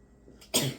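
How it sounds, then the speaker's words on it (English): A single sharp sneeze bursts out close by after a short quiet lead-in. "I think I'm going to sneeze."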